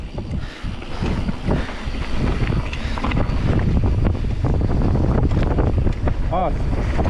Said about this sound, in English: Oh, nice crosswind.